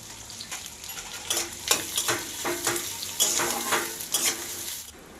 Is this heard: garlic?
yes